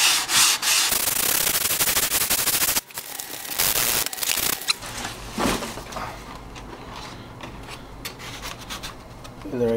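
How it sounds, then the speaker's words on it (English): Hand sanding shapes a scratch-built RC F-15 model airframe, blending its curves with steady back-and-forth rasping strokes, close and loud, with a short pause partway through. "keep sanding here to make it more"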